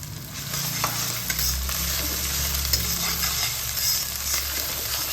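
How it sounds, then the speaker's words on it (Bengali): Chopped green chillies frying in a pan with ginger and garlic masala, a steady close sizzle with occasional soft scrapes and taps of a spatula, no voices. "লঙ্কাটা এর মধ্যে হালকা করে ভেজে নেবো"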